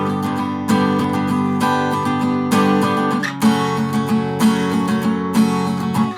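Sustained chords from the bridge of a song, reworked as a plain diatonic progression and played cleanly, changing every second or so with steady attacks.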